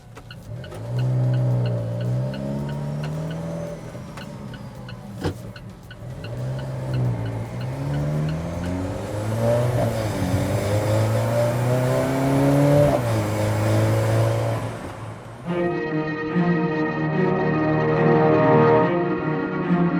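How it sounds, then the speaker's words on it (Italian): An Alfa Romeo 4C drives hard on the Balocco test track, its engine rising and falling in pitch through repeated revs and gear changes, loud and close from inside, with a higher-pitched steady drone near the end. "quello che conta davvero una volta seduti qui è iniziare a guidare."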